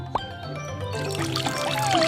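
Water pours steadily and close by to rinse soap foam off a head, a brief splash at the start giving way to a continuous gushing stream.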